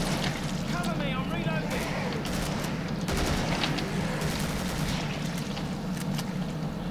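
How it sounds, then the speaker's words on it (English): Rapid gunfire and reloading in the video game Killing Floor, a dense continuous barrage under game noise and voices, loud and close throughout. "I love shooting and then reloading"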